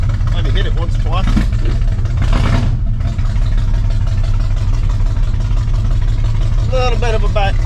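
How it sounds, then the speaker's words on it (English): A 1980s Chevrolet C10 truck engine, abandoned for 22 years with an unhappy carburetor, running loud and steady at close range with a sharp backfire pop early on, under speech. "A little bit of a backfire. That carburetor's probably still not very happy."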